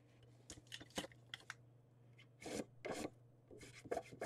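Sheets of paper being creased and folded by hand for a Thanksgiving craft, a series of short dry rasping rubs and crinkles in bursts, close up and fairly quiet, with no voices.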